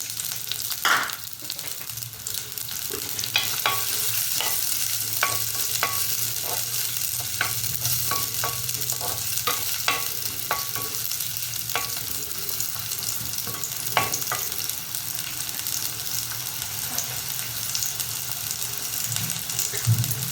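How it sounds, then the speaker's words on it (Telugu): Onions frying in about two tablespoons of oil give a steady close sizzle, with frequent light clicks and scrapes from stirring throughout, and no voices present. "ఇప్పుడు నేను ఉల్లిపాయలు వేస్తాను"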